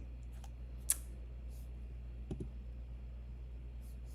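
Computer mouse clicking on a website: a few sharp, isolated clicks, one louder single click and then a quick pair, over a quiet background hum with no talk.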